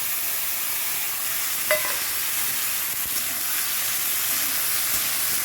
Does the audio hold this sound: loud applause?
no